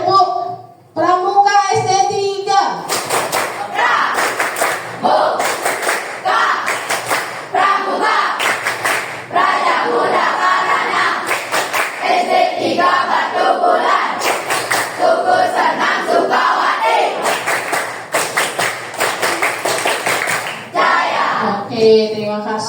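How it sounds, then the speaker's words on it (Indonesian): Elementary school children doing the 'tepuk pramuka' scout clapping chant in class, sharp rhythmic group claps punctuating loud chanted voices, repeating in a steady pattern throughout. "Kemudian ada tepuk pramuka SD 3."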